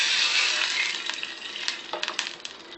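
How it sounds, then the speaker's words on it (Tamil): Vinegar heats in a pan for mango pickle, giving a loud hiss that gradually fades, while light metallic clinks and taps of stirring come through near the end. "இப்போ வந்து இதிலே வந்து வினிகர் சூடு பண்ணுறேன்."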